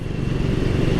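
A steady, close engine drone from a Triumph Speed 400 motorcycle running, a low even rumble with no change in pitch across the short stretch.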